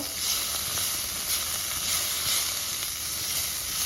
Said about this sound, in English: these are sweet peppers, and we're just cooking them for another like minute or so.